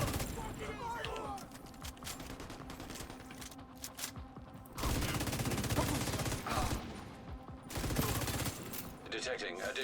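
Gunfire in a video game, bursts of rapid automatic shots and heavier volleys at close range, broken by quieter gaps, with voices talking over parts of it.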